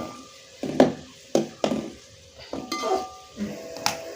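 Rice being stirred and mixed with a spatula in a pan, seasoned with turmeric, salt, curry leaves and chicken masala: a series of separate scraping clatters about every second, fairly close, with no talking.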